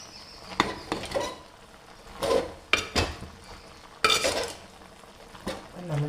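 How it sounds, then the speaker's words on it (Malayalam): A spoon stirs jackfruit erissery in a pot, giving a few separate scraping and clanking strokes with quiet gaps between them. "ഇതൊന്ന് ഇളക്കി നോക്കാം."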